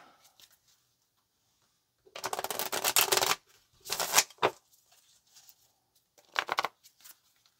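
Tarot cards are shuffled in a few close, crisp riffling bursts, one long and several shorter, with quiet pauses between them.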